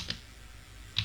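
Two crisp keystrokes on a computer keyboard, about a second apart, close and fairly faint over a quiet room hum.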